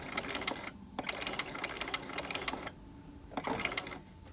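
Sewing machine stitching a trouser waistband, close and clear, running in short bursts of rapid rhythmic clatter with brief stops in between as the fabric is turned.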